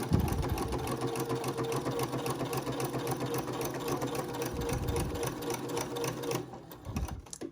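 A sewing machine with a walking foot stitches steadily at an even pace, a rapid close mechanical whirr that runs for several seconds before stopping near the end.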